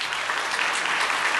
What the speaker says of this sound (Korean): 우리 인사하실 때에 우리 박수로 환영하도록 하겠습니다.